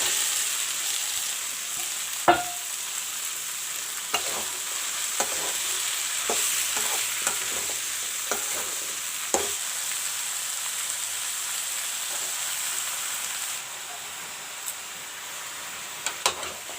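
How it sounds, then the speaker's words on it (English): White pumpkin (kaddu) is stirred into fried masala in a pan, giving a steady soft sizzle broken by repeated sharp scrapes and clinks of the spoon at irregular intervals. "Mix the masala and the white pumpkin nicely"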